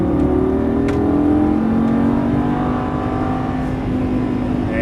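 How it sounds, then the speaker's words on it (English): A Lamborghini Gallardo LP550-2 accelerates hard on a race track, its engine droning loudly and rising steadily in pitch, close up and continuous. "hard on the throttle coming out"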